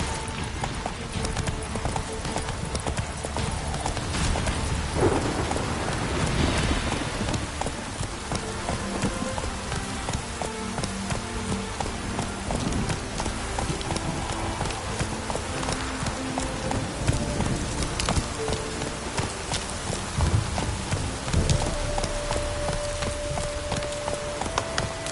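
Roach, a horse in The Witcher 3, gallops through rain with a steady, fast clip-clop of hooves under a constant wash of rainfall and game ambience.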